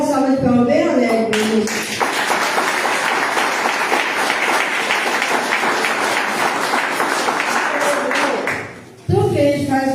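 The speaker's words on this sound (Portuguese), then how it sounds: "aquela salva de palmas bem alegre" Joyful hand clapping from a church congregation at an evangelical service, a loud sustained burst of many hands for about seven seconds between stretches of a speaking voice at the start and end.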